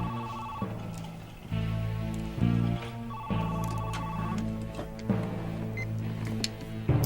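Telephone ringing in a soap-opera scene, repeated electronic ring bursts in a regular pattern with short gaps, fairly close and clear, no talk.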